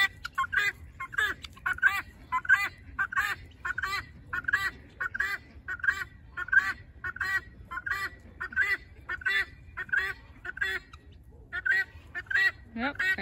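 Guinea fowl being released keep up a loud, rhythmic chorus of harsh, repeated two-part cackling calls, pulsing steadily about twice a second over a faint background hum.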